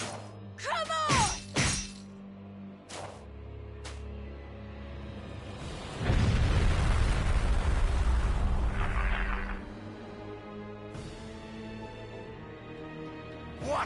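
A magical cutie missile attack in Eiyuden Chronicle: Hundred Heroes bursts into a loud, sustained crashing explosion lasting several seconds, preceded by brief voice shouts and followed by quieter game sounds.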